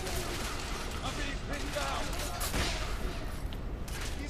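Dense gunfire from the video game The Order 1886 rattles in continuous bursts with mechanical clatter, loud and close, filling the whole stretch.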